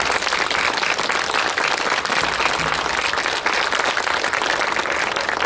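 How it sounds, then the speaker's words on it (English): At a Washington State welcome-home ceremony for Vietnam veterans, a large crowd gives a dense, continuous roar of applause that stays loud and even for the whole stretch. "please give yourself a great round of applause"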